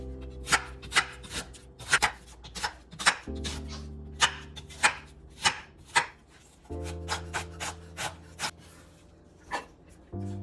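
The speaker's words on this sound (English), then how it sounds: "It doesn't have to be perfect, just roughly chop everything." Knife roughly chopping onion, tomatoes and carrots on a cutting board, a steady series of close, crisp thunks at an unhurried, slightly uneven pace over a low background hum, with no talking.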